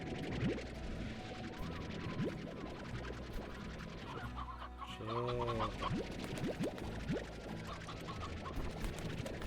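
Chickens cluck and squawk in the video game Slime Rancher, repeated bird calls over a busy, dense game soundscape with steady background music and effects.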